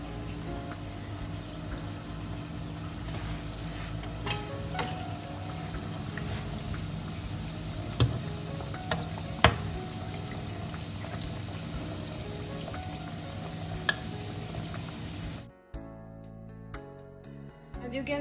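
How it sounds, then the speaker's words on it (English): Eggless, yeast-free doughnuts frying in hot oil in a frying pan over medium flame, a soft, steady sizzle and bubbling with occasional pops, quiet and continuous before cutting out near the end. "Now let's fry the doughnut one by one until it becomes golden brown."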